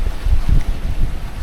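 Wind buffeting a microphone on the coast while sailing in Sicily's Aeolian Islands: loud, low rumbling gusts that surge and drop in quick pulses, with no talk.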